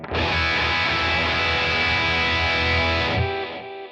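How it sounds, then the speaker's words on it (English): A heavily distorted electric guitar chord rings out loud and sustained, smeared with delay and reverb, then cuts off with a brief echoing tail. "you can hear I have all the distortion and delay and reverb and all that fun stuff"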